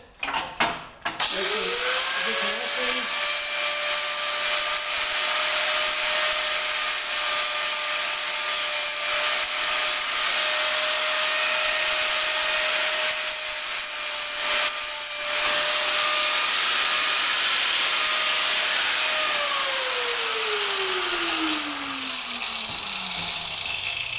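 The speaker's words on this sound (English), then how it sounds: "Use a little bit of grinder here to clean up the terminal ends." Electric grinder fitted with a wire brush cleaning battery terminal ends, spinning up to a high steady whine with abrasive scraping throughout, then winding down near the end; loud and close, without speech.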